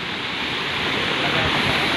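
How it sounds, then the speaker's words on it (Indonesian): Benang Kelambu waterfall in Rinjani Geopark, Lombok, heard as a steady, loud, broadband rush of falling water that stays constant without any break. "Kita telah sampai di air terjun yang pertama guys."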